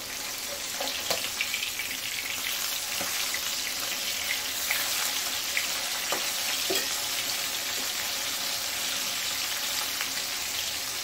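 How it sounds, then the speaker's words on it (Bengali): Pieces of katla fish fry in hot oil with a continuous close sizzle, dotted with occasional sharper pops and spatters, no talking. "দেখো মাছগুলো এখন আমি উল্টে দেবো।"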